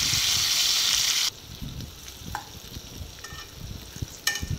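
Chicken pieces for kabsa frying in a pan, a loud steady sizzle for the first second, then a quieter crackle with scattered spatters and a few light clinks of stirring.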